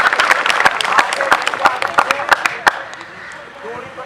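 Audience at an NCC day event claps in a dense, steady burst of sharp hand claps, close and loud, tapering off after about two and a half seconds with faint background noise left.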